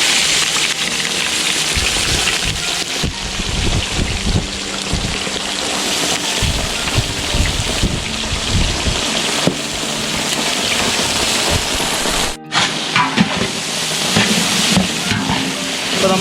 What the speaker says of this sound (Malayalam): അപ്പോൾ ഈ വെജിറ്റബിൾസ് വെച്ചിട്ട് നമ്മൾ ആ കാഷ്നട്ടും കിസ്മിസും ഒക്കെ ഫ്രൈ ചെയ്തെടുത്ത ഇതിനകത്തേക്ക് ഇതൊന്ന് ജസ്റ്റ് ഒന്ന് വാട്ടിയെടുക്കാം.